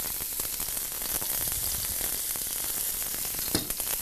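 Thin-sliced garlic and mushrooms sizzle and fry in a pan, a dense, continuous crackling hiss with small pops and a brief stir near the end, steady and close.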